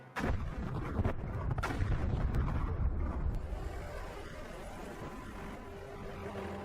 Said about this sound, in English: They begin with a set of relatively small charges. Fire in the hole!